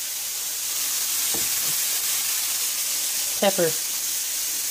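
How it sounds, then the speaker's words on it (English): Onions and carrots sautéing in a pan for a chicken chilli pie, a steady close sizzle and hiss throughout, with a few brief spoken words over it. "sauteing the onions with the carrots"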